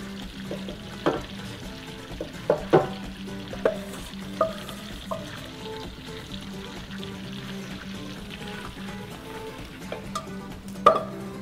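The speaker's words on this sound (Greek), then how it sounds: "Το ανακατεύουμε λίγο." Crushed biscuit being stirred into a cheesecake mixture in a bowl: close, intermittent spoon scrapes and soft clacks with a few sharper knocks, over a quiet kitchen background.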